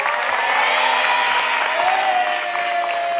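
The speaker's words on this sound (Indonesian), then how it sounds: "Tepuk tangan untuk keluarga Delano" Studio audience on the Indonesian game show New Family 100 applauds steadily and loudly for a family team, a dense, continuous wash of clapping with faint cheering underneath and a sustained musical tone rising in the background.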